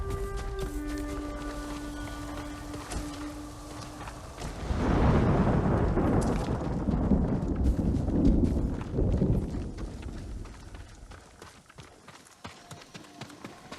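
Horse galloping in the video game Ghost of Tsushima, a steady run of hoofbeats under a loud rumbling surge in the middle that fades toward the end, with no talk.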